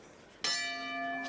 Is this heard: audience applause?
no